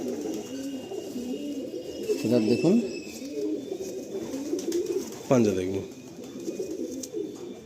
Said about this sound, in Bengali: দোয়াজ পায়রা এটা, দোবাজ পায়রা নর